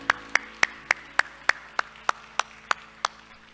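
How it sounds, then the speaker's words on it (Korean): A church congregation claps together in a steady, even rhythm, about eleven sharp hand claps at roughly a third-second pace, over a quiet room with a faint low background hum. "우리 하나님께 영광의 박수합시다"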